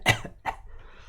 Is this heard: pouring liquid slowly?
no